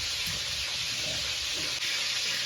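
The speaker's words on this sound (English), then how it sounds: "I know y'all can hear the sausage frying in the background" Sausage frying in a pan in a home kitchen: a steady, even sizzle and hiss throughout, moderately close, with no talking.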